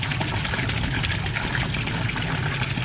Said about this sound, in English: Just let the water flow over its gills.